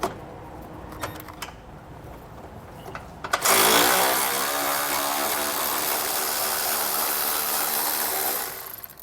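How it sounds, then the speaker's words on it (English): A 10mm socket removes bolts under a 2022 Ford Escape during base plate installation. A few faint clicks come first, then a loud powered tool whirs and drones steadily for about five seconds before cutting off. "we'll get those removed with a 10mm socket"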